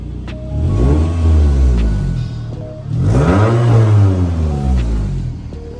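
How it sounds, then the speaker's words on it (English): A Scion tC engine revs twice through a Spec-D exhaust, each rev climbing in pitch and easing back down, loud and close. "I give a little quick little rev"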